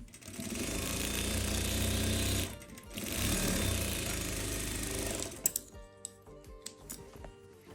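A sewing machine stitches a seam on a salwar cuff in steady, loud mechanical bursts with a brief pause. It then stops, leaving a few isolated clicks and handling knocks.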